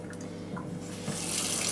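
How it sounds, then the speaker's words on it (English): Water flows through a spray gun's tube into a sink during maintenance, a steady rushing stream that swells louder toward the end, close and without talking. "allow the water to run through the tube whilst you're pumping back the gun"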